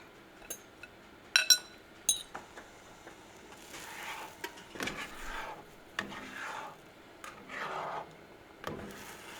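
Food going into a pan heated on a stovetop at medium heat for a brunch appetizer, heard as sharp clinks and knocks followed by soft scraping, rubbing and faint hissing bursts, close and fairly quiet with no talking.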